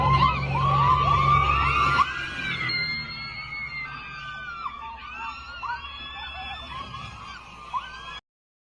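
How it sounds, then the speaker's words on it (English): Many people scream and shriek together as an aircraft wing separates, a sustained, overlapping chorus of high-pitched voices, with a noisy rumble underneath at first. "As the wing actually separates, people are still screaming."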